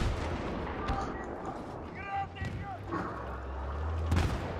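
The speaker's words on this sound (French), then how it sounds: "Lance une grenade." A grenade goes off in a Battlefield video game on the Kharg map, a loud booming blast in the middle of dense battle noise and engine rumble, with a voice heard over it.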